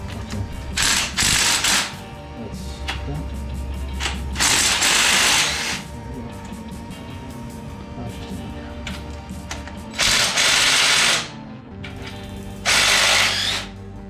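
A power tool whirs in short loud bursts while removing alternator bolts from a 1968 Camaro SS engine during dismantling, with ratcheting mechanical clicks between the runs.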